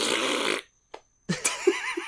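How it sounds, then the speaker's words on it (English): A short, loud fart blasts right into the microphone, followed by a pause and then some snorting, laughter-like noises. "Don't fart into the microphone."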